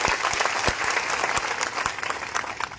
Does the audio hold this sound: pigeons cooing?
no